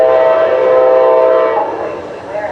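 A CSX train passing through the Sanford area on the SunRail corridor sounds a loud, sustained, chord-like horn blast that fades slightly toward the end over low rumble.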